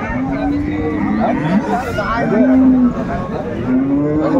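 Dairy cows and calves at a cattle market in Dinajpur, several low drawn-out moos, one after another at close range, over the babble of a crowd and people talking nearby.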